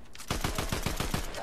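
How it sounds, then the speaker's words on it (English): Rapid gunfire from a Fortnite match, a quick rhythmic burst of about eight or nine close, loud shots firing steadily after a brief quiet start. "Oh, they're shooting at us."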